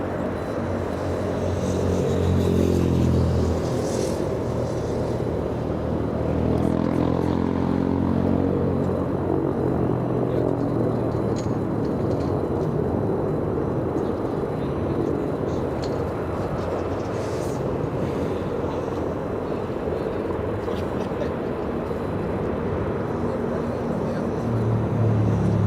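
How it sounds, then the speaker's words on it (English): Aircraft rotors turning at LAX, a loud continuous rumbling drone with engine whine that stays steady throughout, heard from nearby in the open, no speech over it. "Rotors are going. I'm sure you guys hear this."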